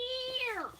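A single cat meows once at a back door, a clear, close, drawn-out cry that slides downward in pitch, with no one speaking.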